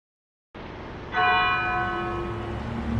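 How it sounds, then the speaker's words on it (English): A single church bell rings out once, loud and clear, its bright metallic tone ringing on and slowly fading over steady low outdoor background noise. "And the bell tolls."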